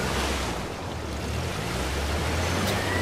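Water rushing and splashing as a Jeep drives through a river in Uncharted: The Lost Legacy, a steady loud broadband wash with low engine rumble beneath, continuous for about three seconds.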